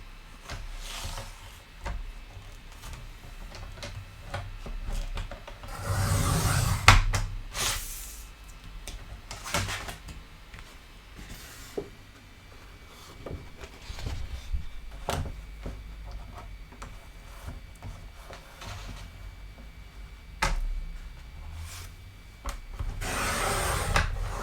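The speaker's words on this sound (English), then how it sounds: "The first thing I'm going to do is trim my cardstock down to size slightly." Cardstock being trimmed on a paper trimmer, quiet close scraping and rubbing strokes with occasional sharper knocks and slides spread over a long stretch, no speech.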